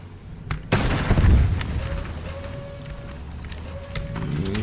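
One sharp, loud tank cannon blast in the Tanki Online game, fired from an M2 hull and turret, booms early and leaves a rumbling tail under steady engine hum and faint mechanical whines.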